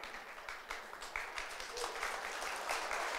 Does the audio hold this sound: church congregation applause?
yes